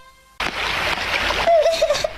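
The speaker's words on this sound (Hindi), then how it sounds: "मेरी डॉल पानी में गिर गई।" A doll dropping into water in a cartoon, a sudden splash that bursts in loudly and trails into a brief watery wash, with a high voice crying out over its tail end.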